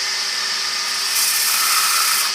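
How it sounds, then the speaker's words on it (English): A wood lathe turning a bowl, with a dust extractor running, gives a steady close whir whose pitch shifts partway through as the speed changes, with no voices. "So let's slow the lathe down."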